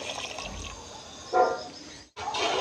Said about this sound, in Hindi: अब इसमें शामिल करेंगे राइस का पानी।